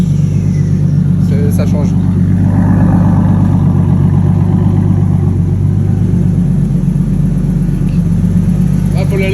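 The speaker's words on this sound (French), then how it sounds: "le bruit du turbo, je l'entends beaucoup plus" A turbocharged BMW E36 engine runs steadily with a low rumbling idle, under a brief spoken remark.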